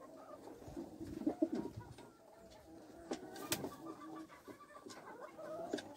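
Racing pigeons coo and murmur in a loft, soft overlapping calls and wing shuffles from several birds nearby, with scattered clicks and light knocks from cleaning.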